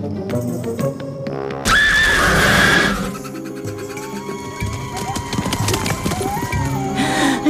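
A horse beside a carriage lets out a loud, shrill neigh lasting about a second, set within a busy animated-cartoon soundtrack of music and effects.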